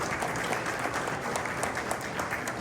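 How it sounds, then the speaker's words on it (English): Steady, dense clapping from a crowd fills the whole stretch, an even wash of hand claps with no voices standing out. "let's give Couchot a huge round of applause for 25 years"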